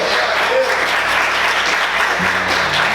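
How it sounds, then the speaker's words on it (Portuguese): A church congregation bursts into loud, sustained applause praising Jesus, a thick continuous roar of clapping that fills the whole span, with a faint hum and some voices mixed underneath. "Pode aplaudir esse Jesus maravilhoso."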